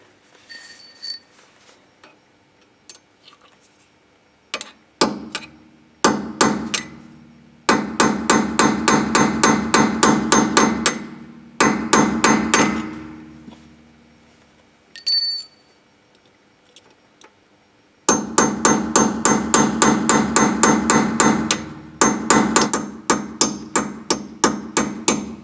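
Metal hammer blows strike a deformed nut on a Peugeot 307 during an ABS sensor replacement, rapid sharp clanks in dense bursts of repeated strikes separated by pauses, close and loud.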